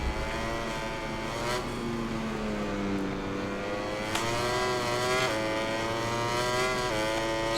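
A Ducati motorcycle engine screams around the track in the MotoGP 21 racing game, with a continuous high-revving whine that rises and falls through gear changes. It holds steady and loud throughout, with no talking over it.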